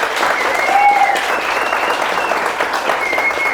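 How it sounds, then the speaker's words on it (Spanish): Audience applause for the panelists at an evening political-party discussion event, a dense steady wash of clapping filling the room, with faint tonal sounds drifting over it. "Les pido un fuerte aplauso,"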